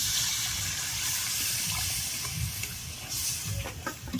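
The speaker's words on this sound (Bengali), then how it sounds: "আমি এবার জল দিয়ে দেবো।" Water is poured into curry masala sizzling in a pan for a fish gravy, a loud close hiss and bubbling rush of liquid hitting hot oil that carries on throughout.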